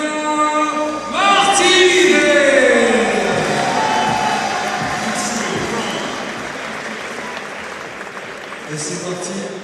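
Arena crowd applauding and cheering as a boxer weighing 62 kg is introduced before his first professional bout; loud sustained clapping swells after a second, then slowly fades under an announcer's amplified voice.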